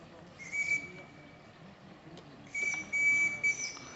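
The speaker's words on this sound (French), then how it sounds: "Moi j'ai du sifflet, donc ça veut dire que j'ai de la vapeur." A thin, high steam whistle on a 1/30 scale model steam tugboat toots twice, a short blast and then a longer one, over faint background murmur.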